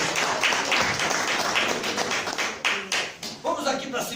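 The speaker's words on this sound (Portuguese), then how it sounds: "Aplaude o nome de Jesus nesta noite." A church congregation claps after a call from the preacher: a scattered burst of hand claps, moderately loud, with individual claps standing out toward the end.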